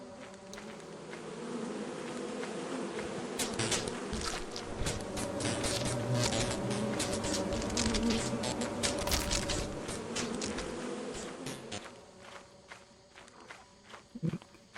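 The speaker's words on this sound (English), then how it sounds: "We're in uncharted bee territory" Bees buzzing in a video game, a dense, steady swarm drone heard up close alongside quick footstep patter, fading out toward the end.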